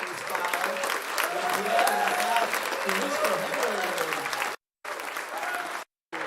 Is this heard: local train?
no